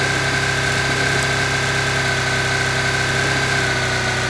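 A motorbike engine idles steadily in a video game, a constant mid-pitched hum with a faint vibrating drone that holds level and close the whole time, with no other sounds.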